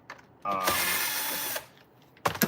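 A power screwdriver whirs for about a second, driving a screw while a Bissell vacuum is reassembled, close and clear, followed by a short clack of parts.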